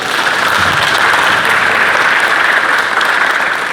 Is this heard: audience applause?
yes